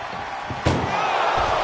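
A single heavy ambulance door slam in a PS5 wrestling ambulance match game lands sharply over a steady, noisy background with a crowd-like roar and faint talk.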